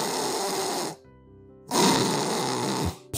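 Heavy snoring with laboured breathing, two long rasping snore bursts separated by a quiet pause, loud and close.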